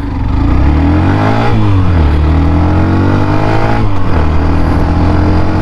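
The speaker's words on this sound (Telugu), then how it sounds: "ఇప్పుడు ఒకసారి ఈ బండి 1 to 5th గేర్ స్పీడ్ ఎలా అందుకుంటుంది అండ్ టాప్ స్పీడ్ ఏందో చూద్దాం." A Hero Xtreme 125R 125cc motorcycle accelerating up through its gears, its loud, close engine note rising in pitch, dipping at each shift, then climbing again steadily.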